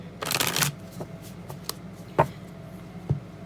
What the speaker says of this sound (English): All the cards have been pre-shuffled, but I'll shuffle one more time and then cut.